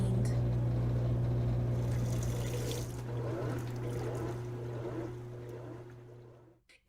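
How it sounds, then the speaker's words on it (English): A washing machine runs with a steady low mechanical hum and a churning, sloshing texture, continuously, then cuts off abruptly near the end. "Or the familiar hum of clothes being cleaned."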